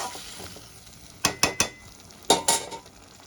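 Ground coriander, turmeric and red chili powder fry in a pan for chicken patiala, a soft sizzle under a series of sharp metallic clinks and scrapes of a spoon against the pan, two quick clusters of knocks.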